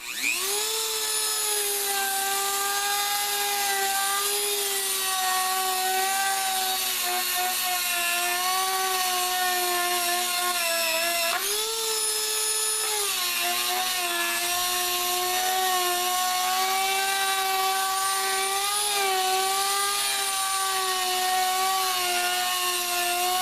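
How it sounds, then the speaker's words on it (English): Dremel rotary tool with a grinding disc and sanding cartridge working a small metal part from a Jeep YJ, a loud steady high-pitched whine that holds for over twenty seconds with slight pitch dips as it bites. "I whittled away at it with a Dremel, with a grinding disc and a sanding cartridge."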